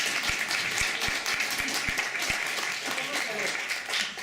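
Audience applause at a panel discussion on literature and national identity, a steady broadband wash of clapping from a crowd, fairly loud and continuous, with a few sharper low thumps scattered through the first half.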